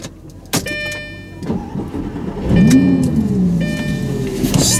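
A Lamborghini Gallardo starts up near Casino Square in Monaco with a few clicks and a sharp crank, then settles into a rising engine rumble, close and loud, alone without talk.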